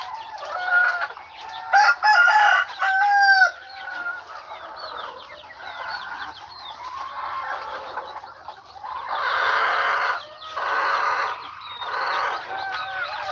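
Several chickens cluck and squawk close by, with a rooster crowing partway through and a busy chorus of hens continuing around it.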